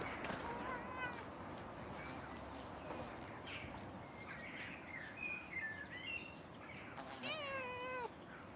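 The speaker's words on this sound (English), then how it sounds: "Oh, cat." A cat in the video game Pentiment gives a few faint meows amid layered garden ambience with chirping birds, and a rising, wavering cat call near the end; speech is present in the background.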